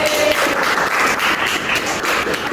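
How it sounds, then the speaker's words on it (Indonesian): A classroom audience applauds a professor, with dense, continuous clapping from a small group at steady loudness throughout. "tepuk tangan buat Prof"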